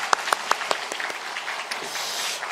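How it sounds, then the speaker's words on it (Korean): Congregation applause at a church service for a teachers' dedication worship, opening with a few distinct, separate claps that blend into a softer, steady patter of hands before tapering off. "아까 박수 쳤지만 한 번 더 박수하겠습니다"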